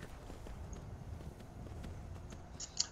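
Horse hooves stepping in the Skyrim video game, faint soft irregular clip-clop footfalls over a low background, ending with a single sharper click.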